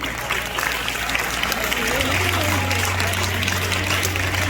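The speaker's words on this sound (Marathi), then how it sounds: "टाळ्यांचा आवाज आला पाहिजे." Audience applause at a school prize distribution in Mumbai, a dense steady patter of clapping from a crowd, sustained and moderately loud for several seconds.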